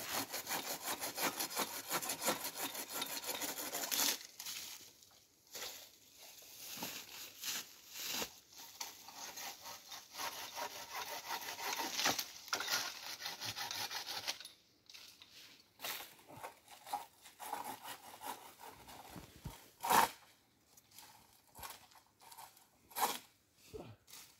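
Hand saw cutting through brush and branches while clearing vegetation around a big-game hunting stand outdoors, with repeated rasping strokes in uneven bursts and brief pauses between cuts.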